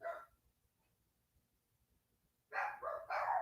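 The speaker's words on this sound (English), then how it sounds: "Why my dog's barking like that?" A dog barks several times close by in quick bursts, preceded by a brief single bark and a stretch of near silence.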